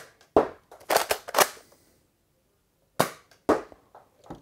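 Nerf Star Wars Rey blaster from The Force Awakens firing foam darts: sharp snapping shots in two quick clusters, about four close pops then a pause and two more, loud and near with no talking.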